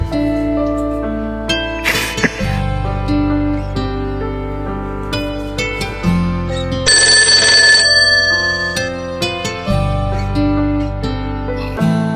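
A telephone rings repeatedly in a loud electronic ringtone melody, sustained tones with a brief brighter trill partway through, near and unaccompanied by speech.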